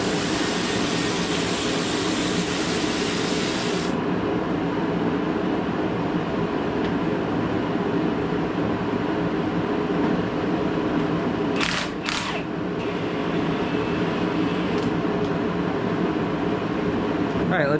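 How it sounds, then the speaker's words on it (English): A workshop heater runs with a steady, loud broadband rumble and hiss that fills the room, its brightest upper layer dropping out after a few seconds while the lower drone carries on, broken by a couple of short clicks. "Sorry for the background noise. We've got the heater going."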